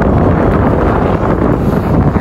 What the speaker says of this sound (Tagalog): Ayan, malakas pa yung hangin dito banda.